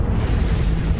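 A continuous deep rumbling explosion effect depicting solar eruptions, loud and steady throughout, with no voices.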